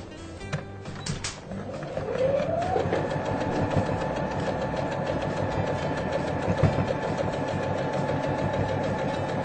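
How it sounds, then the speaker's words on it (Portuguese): A Brother SQ 9000 sewing machine stitches fabric for a bag in a crafts studio, its motor ramping up after a few clicks and then humming steadily with a fast even stitching rhythm, close and continuous. "Essa é a Brother SQ 9000, a máquina que a Angélica está trabalhando hoje aqui no nosso programa Arte Brasil"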